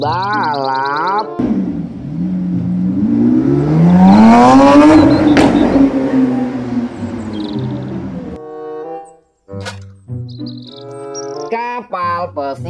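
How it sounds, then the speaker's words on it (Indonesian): Toy race car engine effect, a loud revving whine that sweeps up and falls back over several seconds like a passing car, set between short electronic jingle sounds. "Mobil balap."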